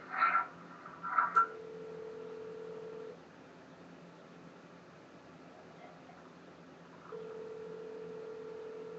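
Telephone tones during a call: a few short dial beeps at the start, then a long steady tone, a quiet pause, and the tone again near the end, with no talking.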